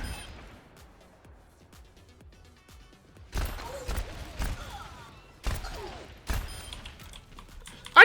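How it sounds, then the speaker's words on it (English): Reaper's shotgun in the Overwatch game fires in separate loud blasts, each a sharp crack with a brief rattling tail, spaced irregularly over quiet game ambience. "I nearly one-shot that guy from this far away with that first shot"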